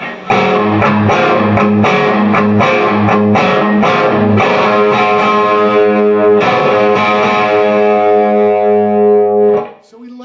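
Distorted electric guitar plays a short riff of picked notes, then holds a ringing chord with the open fifth string ringing, sustaining and fading near the end.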